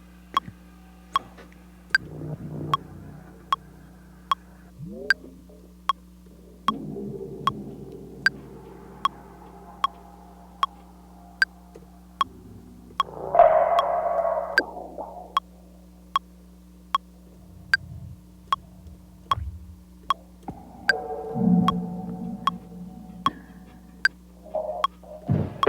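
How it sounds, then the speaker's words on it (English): Creepy, wispy synth tones in Ableton Live, soft, airy swells and blips that drift in and out over a steady metronome ticking at a slow 76 BPM, with no talking. "we're getting these creepy wispy sounds"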